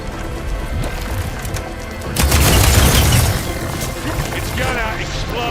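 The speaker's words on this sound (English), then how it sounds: "It's gonna explode! And they went boom!" An explosion in Horizon Forbidden West, a heavy booming burst with crackling debris that swells then lingers, surrounded by game sounds and voices.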